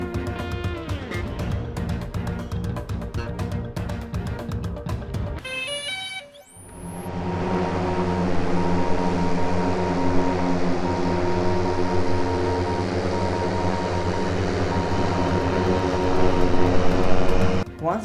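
A drone flying over a survey site gives off a steady, close whining buzz that holds for several seconds and swells slightly toward the end, after a brief stretch of other tonal noise.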